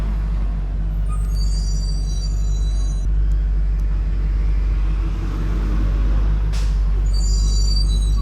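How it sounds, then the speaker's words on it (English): A trash truck idles with a deep, steady rumble close by, punctuated by sharp hissing bursts from its air brakes at intervals, with no one talking. "We'll wait for the trash truck."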